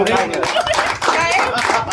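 A group of people clap their hands in a steady, dense patter, with voices talking over and around the applause throughout.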